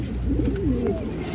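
A female Muslodom pigeon, a high-flying line breed, coos in a soft low warbling phrase, close and clear over a steady background hum, with no talking.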